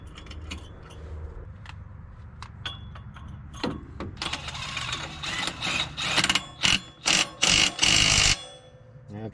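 Bolts being tightened on a Segway Villain clutch kit, with light metallic clinks early on, then a series of louder rhythmic ratcheting bursts close by before stopping.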